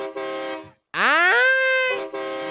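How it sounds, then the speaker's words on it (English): A loud, brassy horn blares in three long blasts separated by brief gaps, the middle one sliding upward in pitch. "I put a fucking train horn on there"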